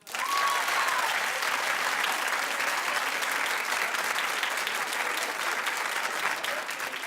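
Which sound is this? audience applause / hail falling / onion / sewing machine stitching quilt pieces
audience applause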